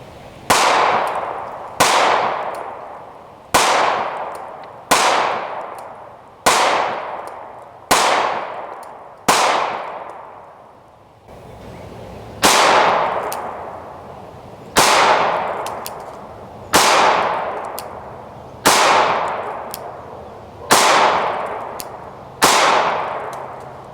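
Glock Model 43 9mm pistol fired at a range, about a dozen sharp, loud shots at a steady pace in two strings, each report trailing off in a ringing echo, with no talking.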